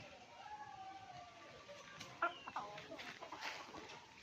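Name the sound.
chickens clucking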